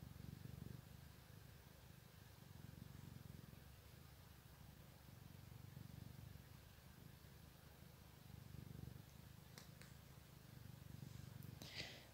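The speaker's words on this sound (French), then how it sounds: "Ronronne, hein." A cat purrs softly and continuously at close range, a low rhythmic rumble rising and falling with each breath, with faint rustling near the end.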